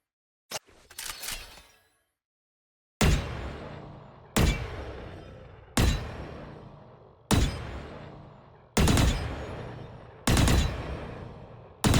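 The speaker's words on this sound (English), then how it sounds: "the shooting sound is higher pitched and shifts from angelic to almost alien" Divergence skin gun in the game Valorant firing six evenly spaced shots after an initial crack, each a sharp bright blast with a decaying tail, loud and close, no talking.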